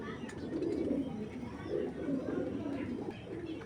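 Giribaz pigeons cooing close by, soft repeated throaty coos in a low steady murmur, with faint background noise.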